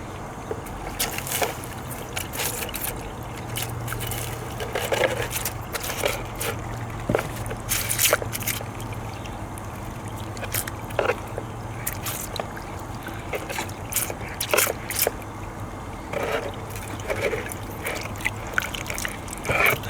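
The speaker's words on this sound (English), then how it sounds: "Now I'll wash the funnel out." Water trickles and sloshes while a funnel is rinsed out after mercury recovery work, a continuous splashy wash heard nearby with intermittent louder splashes and no talking.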